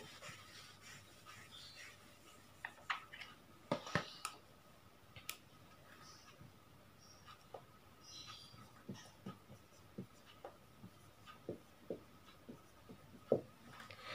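A board erased and then written on with example Korean sentences, heard as faint, scattered scratchy strokes and small taps spread across the whole stretch in a quiet room.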